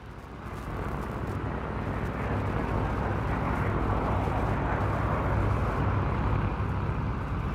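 A Gloster Meteor jet flies past at an air show, a broad roaring rumble that swells steadily and stays loud and sustained, with no voices over it.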